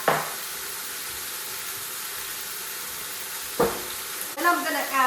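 Pork ribs sear in a hot pan with a constant hiss and crackle, and a couple of louder sizzling bursts come as pieces are shifted or added.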